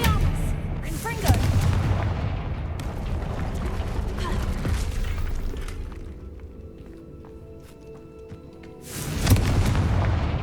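Confringo blasting spells go off in Hogwarts Legacy, the game: heavy booming explosions, one sharp blast early, a rumbling stretch, and another loud burst near the end, with a faint metallic ringing between.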